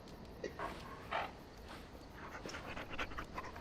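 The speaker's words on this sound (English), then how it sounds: "Yes, you're a good little puppy too, boy." Dog in the Dragon Age Origins video game panting with small whimpers, soft and fairly close, in short uneven bursts over a low ambient game background.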